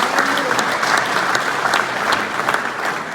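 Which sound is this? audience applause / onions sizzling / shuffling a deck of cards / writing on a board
audience applause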